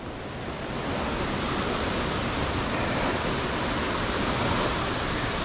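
A steep creek rushes near Morans Falls in Lamington National Park, a loud, constant roar of tumbling water that swells within the first second and then holds steady, close by and with no voices.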